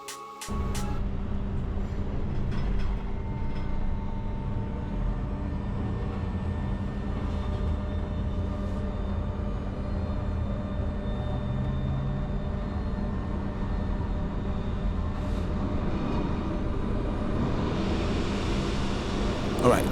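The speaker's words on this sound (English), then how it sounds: "Finally, the next westbound train arrives" RER Line E westbound train pulling into an underground station in the Paris region, a sustained rumbling roar with whining motor tones and squeals building steadily over twenty seconds as the train arrives.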